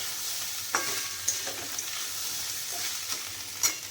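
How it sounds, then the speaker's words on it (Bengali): A spoon stirs a spiced dish in a frying pan seasoned with garam masala and bay leaf, giving a steady soft sizzle broken by a few scraping strokes, close and fairly quiet. "আর একটু নেড়ে নামিয়ে দেবো"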